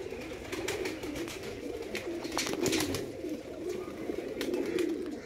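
Pigeons coo softly and repeatedly in low, throaty murmurs, with occasional light clicks and rustles nearby.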